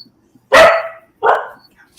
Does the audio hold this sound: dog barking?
yes